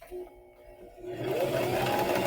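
A sewing machine starts near a pieced quilt seam of joined triangles, quiet at first and then running steadily at full speed in a loud close mechanical whir while back stitching.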